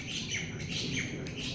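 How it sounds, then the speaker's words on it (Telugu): Birds calling around the Lepakshi temple grounds, crows among them: several short chirps and calls repeat irregularly over steady outdoor ambience, moderately close and clear, with nobody talking. "బర్డ్స్ సౌండ్, కాకుల సౌండ్"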